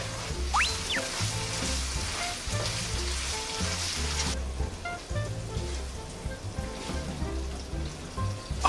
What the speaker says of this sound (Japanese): 生姜、豆板醤、豆豉、唐辛子、 あとは弱めの中火ぐらいでじっくりじっくり炒めていきましょうかね。